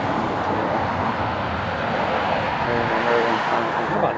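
A fixed-wing airliner approaches to land, its engine roar a steady, broad rumble that holds loud and fairly close throughout, with traffic-like background noise beneath and no clear speech.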